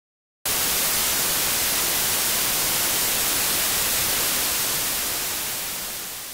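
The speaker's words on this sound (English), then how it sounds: "I can create a field of white noise in SpectraLayers Pro 7" Synthetic white noise generated in SpectraLayers Pro 7 starts abruptly after a brief silence and holds as a dense, even broadband hiss, fading slightly toward the end, alone with no voice.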